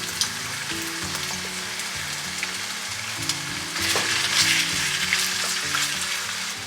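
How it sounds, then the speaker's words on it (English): Chicken frying in hot oil until golden brown, a loud, continuous crackling sizzle that swells louder partway through, heard close with soft music playing underneath and no voices. "we are going to be frying the chicken"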